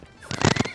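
A horse in the game Rust lets out a single short, loud neigh with a quick fluttering whinny, close by and brief.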